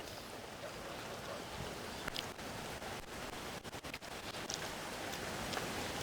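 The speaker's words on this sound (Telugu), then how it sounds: "ఆకులు అల్లల్లాడుతున్నాయి" A steady, soft rushing of wind through leaves fills the air, broadband and continuous, with occasional faint crackles and brief dips.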